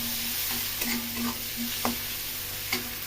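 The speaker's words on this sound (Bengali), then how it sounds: "পেঁয়াজটা ভাজা ভাজা হোক" Onion fries in hot, pungent mustard oil, sizzling steadily close up while a utensil stirs and scrapes the pan in short, repeated strokes.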